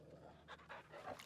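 Rapid, rhythmic panting from a dog in Final Fantasy XVI while it is being petted, several quick breathy pulses up close in a short burst with no talking over it.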